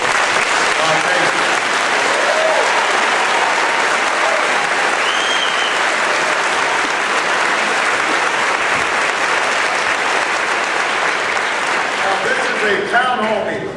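Loud, sustained applause from a large crowd at a Pennsylvania campaign town hall in Johnstown, greeting a senator; dense clapping with scattered cheers and voices runs steadily for the whole stretch.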